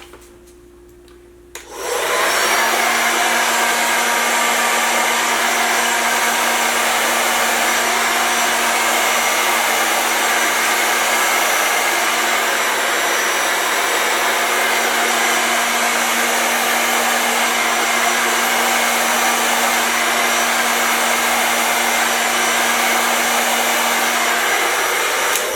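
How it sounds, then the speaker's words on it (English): A hair dryer switches on after a short quiet moment and blows steadily at close range onto fluid paint, a loud continuous whoosh with a humming tone underneath. "I'm going to take my blow dryer and I'm just going to blow it out."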